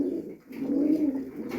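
Satin pigeons coo close by in low, throaty rolling notes, two soft coos with a brief pause between, alone without talk.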